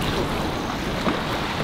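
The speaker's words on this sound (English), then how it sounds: "The waves are getting pretty big." Big waves rush and slosh steadily against a panga fishing boat off Corpus Christi, a dense, continuous wash of water and wind noise with no talking.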